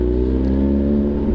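A Kawasaki ZH2 motorcycle engine runs with a loud, close, steady mechanical drone and no clear change in pitch.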